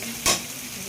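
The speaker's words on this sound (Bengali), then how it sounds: "মশলাটা কষাচ্ছে" Chopped tomato, chili and garlic masala sautéed in a hot pan gives a single quick stir-scrape and hiss over a soft steady sizzle.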